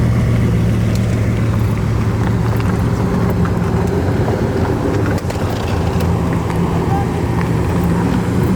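Many cars idle and rev together at an outdoor car meet before a dream ride, a loud continuous rumble with wind buffeting the microphone throughout.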